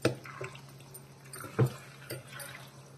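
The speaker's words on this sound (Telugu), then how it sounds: "కొంచెం వాటర్ వేసుకుందామండి." Water added to a potato, brinjal and tomato curry in a pan, heard as a few short splashy drips and one louder pour-like splash against a low steady hum, with no talking.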